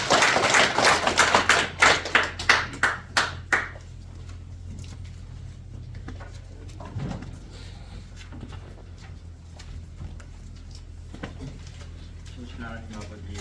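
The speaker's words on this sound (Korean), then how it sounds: "감사의 박수를 드립니다" Church congregation at a men's fellowship morning service clapping in applause, a brisk burst of hand claps for a few seconds that fades into room murmur and quiet talk.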